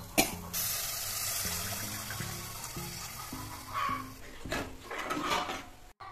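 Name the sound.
pouring tamarind water into curry pot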